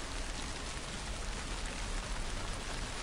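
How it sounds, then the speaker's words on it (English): Steady, dense rain falling, a constant hiss of drops with no voices or other sounds. "It did start raining"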